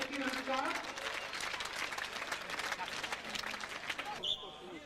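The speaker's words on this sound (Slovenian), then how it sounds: "aplavz za atraktiven skok" Crowd applause after a bridge dive at a 1996 diving competition in Kanal, broad clapping with scattered shouts and a commentator talking over it, ending abruptly.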